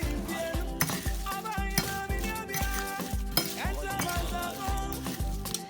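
Prawn seasoning and a Maggi cube being stirred in a hot pan, with repeated rhythmic scraping strokes and light clinks of a utensil, fairly close and moderately quiet.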